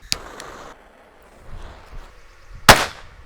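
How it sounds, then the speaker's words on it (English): A handheld firecracker goes off in one sharp, loud crack near the end, after a quieter stretch holding a few faint ticks and low rustles. "Something you should never do, holding on to a firecracker."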